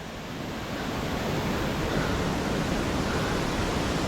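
Water rushes down a waterfall in a large forest as a steady, dense roar that stays even and unbroken throughout, fairly close, with no talking.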